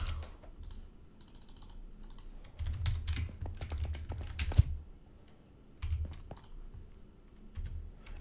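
Quick bursts of computer keyboard typing, crisp close key clicks in fast uneven runs separated by short pauses, with occasional heavier thumps, no voices.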